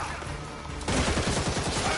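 Rapid bursts of gunfire in Gotham Knights, a dense fusillade of shots that starts abruptly and keeps rattling at close range for the rest of the moment.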